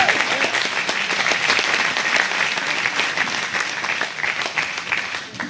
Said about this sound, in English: How about a round of applause for conservatism?